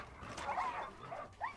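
Dogs in the video game Far Cry 5 barking and whimpering in a few short, fairly faint yelps and whines.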